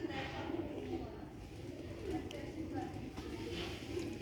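Sialkoti silver roof pigeons cooing softly in low, steady murmurs close by, with a continuous rustling, busy background and a few light knocks throughout.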